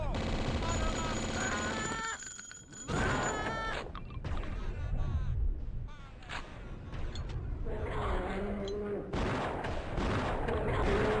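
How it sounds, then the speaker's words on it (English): Shotgun fire in the 1997 first-person shooter Blood: several sharp, booming blasts burst out in quick succession over game music and other effects, loud and close. "I like how snappy the shotgun is, too."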